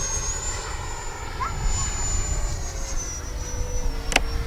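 A low flyby by an aircraft, probably a radio-controlled model flown near a clubhouse airfield, its engine drone steady and fairly close with a rising whine, while someone talks over it.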